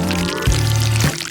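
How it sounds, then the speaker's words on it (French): Sauce pours steadily over a plate of noodles, a close, continuous liquid stream with a couple of brief splashy surges. "je vais mettre de la sauce au-dessus des nouilles"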